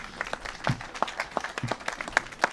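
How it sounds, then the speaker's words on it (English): A small gathering at a park playground grand opening gives a brief round of applause, sparse distinct claps from a handful of people, fairly faint. "That deserves a round of applause."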